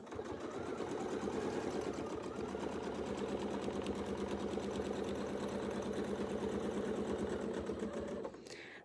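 A sewing machine runs continuously and steadily for about eight seconds, quilting a wavy line through a quilt, its fast, even stitching rhythm close and clear before it stops.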